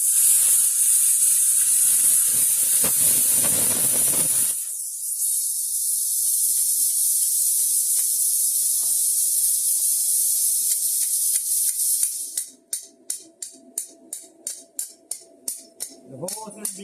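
A plasma cutter hisses loudly and steadily while cutting metal for a homemade electric pit bike, then stops and gives way to a series of short, sharp, evenly spaced bursts near the end.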